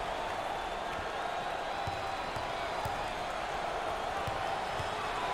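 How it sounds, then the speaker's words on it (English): A packed crowd roars steadily inside a basketball arena at an NCAA March Madness first-round game between Florida Atlantic and Memphis, a dense, continuous wash of noise with faint ball bounces and squeaks underneath. "This crowd is unbelievable tonight"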